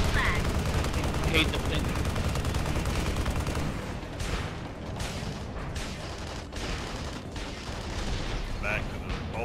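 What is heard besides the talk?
airstrike in Tribes Ascend video game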